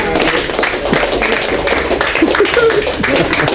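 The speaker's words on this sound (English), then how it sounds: "So you all give yourselves a clap." Audience clapping at the close of a talk on identifying toxic relationships, steady applause for a few seconds with voices mixed in over it.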